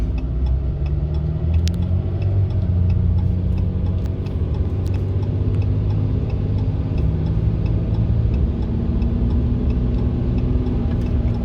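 A 2016 Dodge Ram 3500 with the 6.7 diesel is driving while losing power and shaking. Its deep engine rumble and road noise stay loud and steady throughout, with faint periodic ticking over the top.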